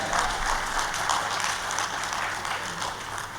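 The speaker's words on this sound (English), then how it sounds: "can we have a better round of applause than that?" An audience at a medical talk honouring a skull-base surgeon breaks into a sustained round of applause, a dense even wash of clapping from many hands throughout.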